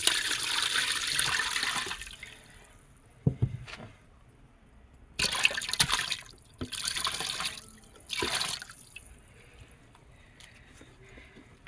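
Coconut milk poured into a cooking pot, bursts of liquid splashing and gurgling in uneven pours separated by quieter pauses and drips, close and moderately loud.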